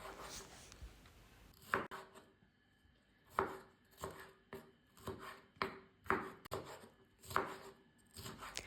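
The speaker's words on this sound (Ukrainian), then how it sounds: "нарізаю також середніми шматками" A knife chops vegetables on a cutting board in a steady series of sharp, close taps, pausing briefly between bursts, with no talking.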